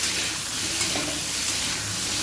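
Potatoes frying in oil with turmeric, stirred in a pan, making a steady, close hiss and sizzle with faint scraping throughout.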